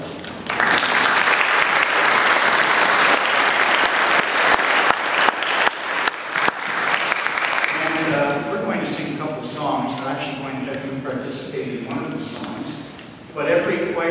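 Loud, dense applause for church choir members fills roughly the first eight seconds, then fades under softer crowd noise and voices.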